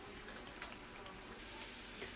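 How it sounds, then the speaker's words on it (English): Rib meat frying in hot lard in a pan, giving a steady, close sizzle and crackle with small pops throughout and no talking. "the reason that we're gonna add this is so that it can fry the meat"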